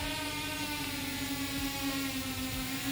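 A HobbyKing Black Widow 260 FPV racer drone with brushless motors hovers nearby, giving a steady, even whir with a high, constant tone and no speech over it.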